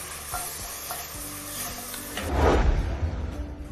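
Food being toasted in a pan sizzles steadily while a utensil scrapes and stirs it, with a louder burst of stirring and sizzle toward the end, close by and without talk.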